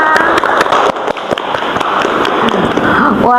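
A small group in a counseling session claps for one another's life mottos, a brisk patter of close, uneven hand claps throughout, with a voice briefly breaking in at the end.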